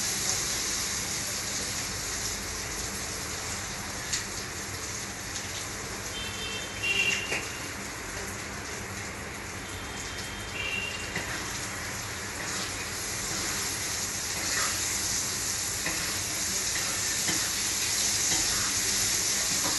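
Hot groundnut oil bubbling and sizzling in a pan with asafoetida for tomato pickle, a steady broadband hiss that runs unbroken throughout at moderate level with no talk.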